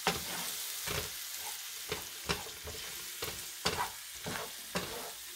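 Spices frying in oil in a pan for Congo beans, a soft continuous sizzle broken by regular scraping stir strokes every half second or so, close up and moderately quiet.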